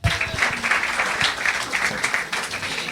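Steady, dense applause from an audience at a comedy semi-final fills the whole stretch, with a few louder individual claps close by and no pause.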